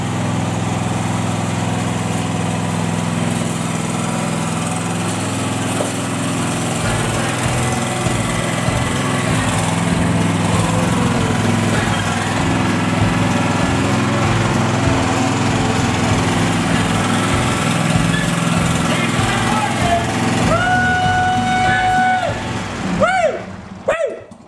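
A John Deere SST16 riding mower's engine drones steadily and loudly throughout, with a few faint higher whines and clanks near the end, while its faulty actuator steering is tested.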